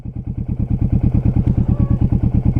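A Kawasaki Z125 Pro motorcycle running close by, its small engine giving a steady, loud, rapid chugging pulse that swells slightly as it pulls away.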